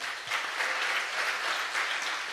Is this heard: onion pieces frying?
no